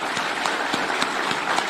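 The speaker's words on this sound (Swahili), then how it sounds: "Tafadhali tumpigie makofi tena." A crowd at an athletics event applauds an official, with dense, steady clapping and a few sharper individual claps standing out.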